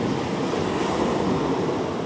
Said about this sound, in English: you get all these lovely shapes made by the foamy water being pulled down the beach